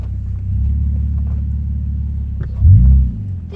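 A Toyota Tacoma truck stuck in an off-road hole gives a steady low engine rumble, then revs harder in a short, louder surge near the end, with no talking.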